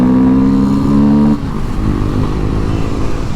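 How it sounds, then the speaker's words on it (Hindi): A KTM Duke 250 motorcycle fitted with an aftermarket exhaust and an opened air filter revs loudly up close, holding a high, rasping note before dropping abruptly to a rumbling idle. "इससे कितनी लाउड आ रही है भाई, चीख रही है गाड़ी एकदम। ये देखो ये एकरा का एग्जॉस्ट लगा के रखा है"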